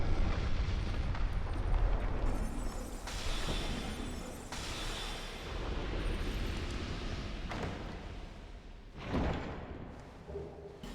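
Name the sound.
exploding enemies in video game Dark Souls 2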